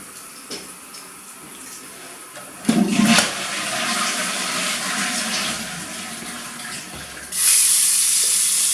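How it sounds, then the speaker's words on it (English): Water gushes from a shower that has just been turned on, a sudden rush that settles into a steady hiss and then swells louder toward the end, with no talking over it. "turn on the shower."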